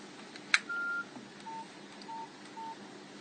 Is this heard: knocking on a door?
no